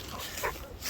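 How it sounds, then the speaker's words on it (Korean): A dog gives a single short, faint bark or yelp outdoors at dusk, brief and distant-sounding, with no speech over it. "번개 짖는다."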